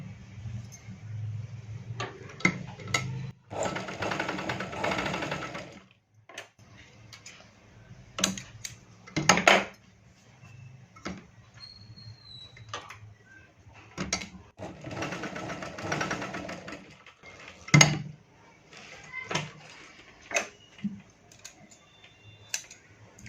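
A sewing machine stitches a strip onto a blouse in several short, intermittent bursts, with ticking and clicking fabric-handling noises between runs, close and fairly quiet.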